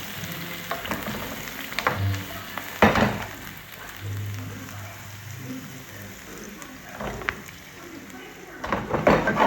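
Food frying in hot oil in a home village-style kitchen, a soft continuous sizzle with scattered crackles and utensil clinks, heard beneath someone talking throughout.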